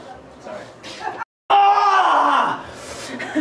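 A person screams and groans loudly while getting a Brazilian wax, a long strained cry after a brief silence, preceded by softer pained vocal sounds.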